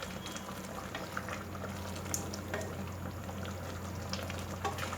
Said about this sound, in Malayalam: 2-3 മിനിറ്റ് നന്നായിട്ട് ഒന്ന് തിളക്കട്ടെ